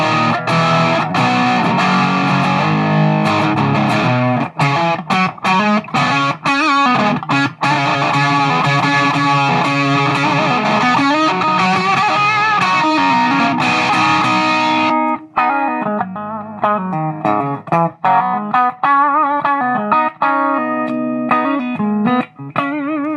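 Electric guitar on the bridge pickup with volume fully up, played through a Boss DS-1 distortion pedal: a run of gritty, saturated chords and riffs with sharp picked attacks, loud and close, shifting to a thinner tone partway, no talking.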